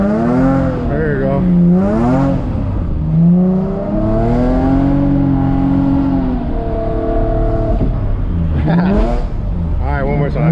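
A street-drifted car launches at night using the e-brake and a clutch pop in first gear. The engine revs loudly and close, rising and falling in pitch several times.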